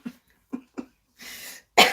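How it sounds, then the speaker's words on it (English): Several coughs from one person: three short dry bursts, a pause, then a longer harsh rasping cough and a final loud hacking cough, close and with no talk. "I've still got that cough."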